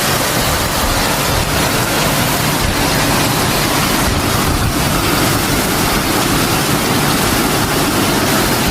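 Heavy rain driven by strong wind pours steadily onto a roof in Samut Prakan, Thailand, near the sea, a dense, loud, unbroken roar with no voices.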